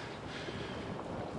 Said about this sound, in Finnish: Tuulee aika paljon.